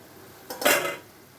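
A lid drops onto a pot of cooking instant sambar with a single short metallic clatter that rings briefly before fading into quiet.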